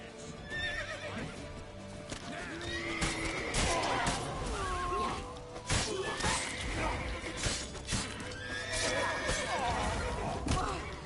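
A horse in The Witcher whinnies several times amid galloping hoofbeats, crashes and smashing impacts in a busy game scene, with voices shouting over it.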